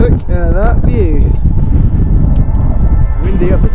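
Strong wind buffets the microphone on a ski mountain summit at Val Thorens, a constant low roaring rumble throughout while people whoop and exclaim over it.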